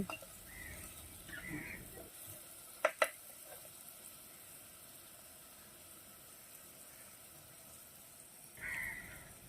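Sliced onions and green chillies fry in a pan during cooking aboard a bus. A soft, continuous sizzle is broken by a couple of sharp spatula clicks against the pan as they are stirred, all fairly quiet.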